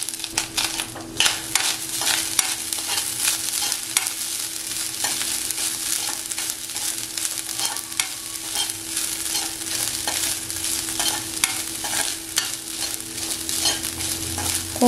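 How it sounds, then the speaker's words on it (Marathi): Fresh coconut stir-fried in a little ghee in a hot wok for sweet coconut karanji filling: steady close sizzling with repeated scraping strokes of a spatula throughout, no voices. "तूप टाकल्यानंतर आपण खोबरं टाकूया"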